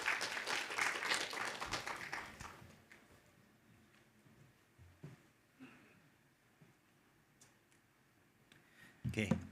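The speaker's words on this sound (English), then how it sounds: "Should we give a warm applause to Ken?" An audience at a Cyberport startup investment forum applauds to welcome a speaker, with a burst of clapping in the first two seconds that fades into quiet room noise, scattered clicks and a brief return of sound at the end.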